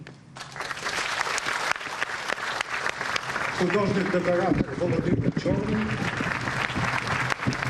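A large audience applauds steadily and warmly throughout, while a voice announces over the clapping.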